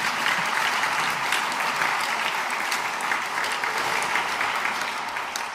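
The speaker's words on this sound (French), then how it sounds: "Un autre applaudissement." A church congregation gives sustained, dense applause, a steady roar of many hands clapping at close range with no talk over it.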